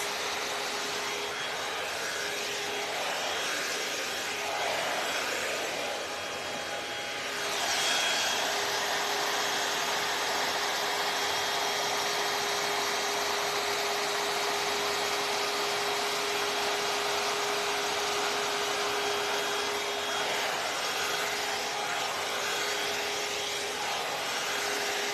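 A L'ange AIRess hair dryer brush runs with a steady whirring blower hum and a constant whine, briefly dipping then surging a little louder, close and continuous with no voices.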